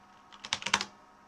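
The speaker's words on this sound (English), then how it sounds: "I can hear that keyboard." A quick burst of typing on a computer keyboard, roughly half a dozen close, crisp key clicks in a short cluster against a quiet background.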